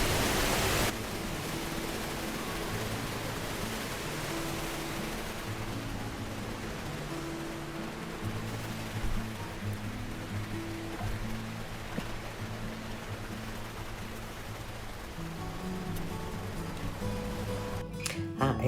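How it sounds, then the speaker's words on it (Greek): Heavy rain falls steadily near the Nemoutas waterfalls in Greece, a constant dense hiss that stays even and fairly loud throughout with no voices. "Δυστυχώς άρχισε να βρέχει πολύ."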